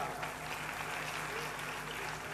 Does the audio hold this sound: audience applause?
yes